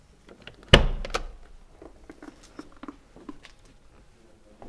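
The rear door of a Hofele-designed Mercedes-Benz G-Class opens with a sharp latch thunk near the start, followed by softer clicks, rattles and handling noises close by.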